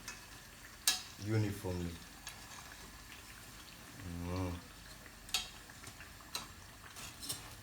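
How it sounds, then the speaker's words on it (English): Food frying in a pan while pieces are flipped with a utensil, giving soft scraping stirs and a low sizzle in short bursts; a voice speaks briefly. "you just need to flip them so that they fry"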